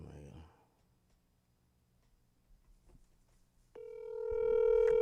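A phone dials out with a short ringback tone and electronic beeps rising near the end, after a quiet pause; a voice is briefly heard at the start.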